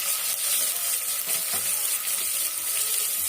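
Sliced big onions sautéing in a pan for chicken biryani, a steady bright sizzle with occasional stirring scrapes, close and continuous.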